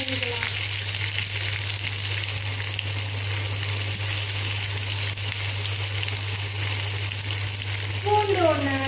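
Urad dal and onion fry in hot oil for semiya upma, giving a loud, steady, close sizzle that crackles continuously throughout with no pauses.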